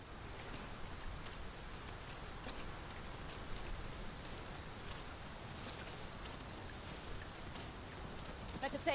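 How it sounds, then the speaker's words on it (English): Steady rain falls in the video game Dragon's Dogma 2, a continuous even patter of drops on surfaces with a faint rustle, filling the whole stretch without pauses. "Rain can be treacherous."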